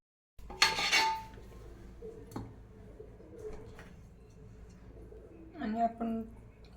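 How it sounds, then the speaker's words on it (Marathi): Cooked chicken popti is transferred into another pot: a burst of metal clinks and scraping rings out, then quieter clatter, and a few more clanks near the end, with birds cooing faintly behind. "तर आता काढून घेऊयात दुसऱ्या भांड्यात."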